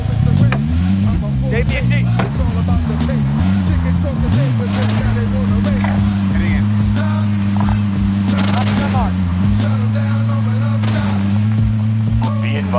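A vehicle's engine drones steadily as a player drives in a multiplayer military shooter game, a sustained hum with pitch shifts as it accelerates, while voices talk over it throughout.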